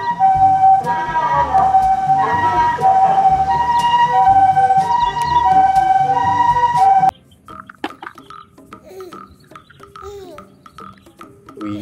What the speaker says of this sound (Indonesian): Wadidaw, ada mobil ambulan.